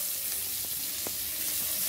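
Sliced onions dropped into hot oil with green chillies for mutton paya, giving a steady bright sizzle throughout with a couple of brief stirring clicks, close and continuous.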